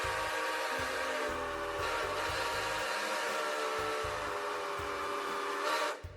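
A train-style alert sounds for a stream hype train. A long, steady steam-whistle tone with hissing and a chugging low rumble beneath it holds for about six seconds, then cuts off abruptly.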